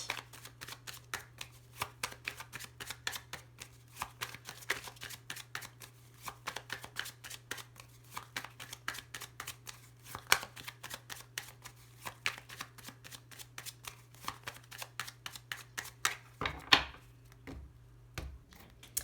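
Tarot cards being shuffled by hand, a long run of quick, crisp riffling flicks close to the mic, steady and rhythmic with a low hum underneath, ending in a few soft taps.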